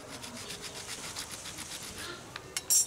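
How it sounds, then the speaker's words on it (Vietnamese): Steady back-and-forth rasping of a hand saw cutting about halfway through a laurel tree root, close and fairly quiet, with a brief scrape near the end. "Các bạn cưa khoảng một nửa cái rễ là được."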